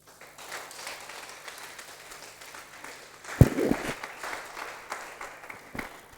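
An audience at a church seminar breaks into a sudden burst of applause and cheering to praise God after a quieter murmur, with the clapping swelling and then thinning out.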